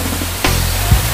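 Dampalit Falls pours in a steady, loud, broadband roar close by, a continuous wash of falling water with a brief thump partway through and no voices.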